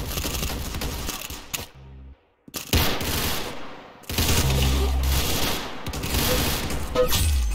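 Rapid automatic gunfire from the video game Roblox Arsenal rattles in dense bursts, broken by brief silent gaps, loud and close with no talking.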